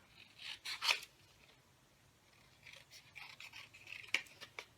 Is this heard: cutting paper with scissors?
yes